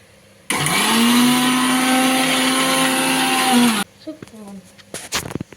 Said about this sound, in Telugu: ఇది మిక్సీ పట్టేసుకోండి దీంట్లో కొంచెం వాటర్ వేసేసుకొని చట్నీ అయితే రెడీ అయిపోతుంది